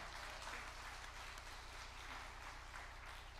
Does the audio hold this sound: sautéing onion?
no